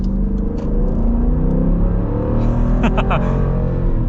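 A Dodge Durango's 5.7-liter Hemi V8 accelerates from inside the cabin, a loud, deep engine rumble rising in pitch through the revs, with brief vocal sounds near the end.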